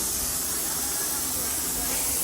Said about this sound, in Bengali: আমার রান্না হয়ে গেছে প্রেশার কুকারে সিটি দিচ্ছে